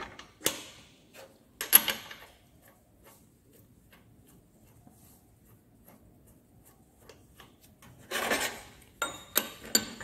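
A die being fitted into an agarbatti (incense stick) machine: scattered metallic clicks, scrapes and creaks come in short bursts separated by quiet gaps, close up with no talking.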